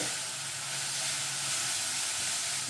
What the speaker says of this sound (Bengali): গ্রেট করা গাজর আর বিট দিয়ে ভালো করে নেড়ে একটু ভেজে নেব।